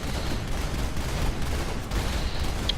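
Panda units firing autocannons in the real-time strategy game Rise of the Reds, attacking GLA emplacements: a steady, dense stream of rapid cannon rounds and distant battle noise, continuous and fairly loud throughout.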